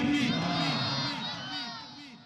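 A large crowd at a religious gathering shouts the takbir chant in unison, a loud sustained mass of voices that swells at first and slowly fades.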